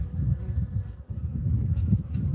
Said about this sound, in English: Million bees and more.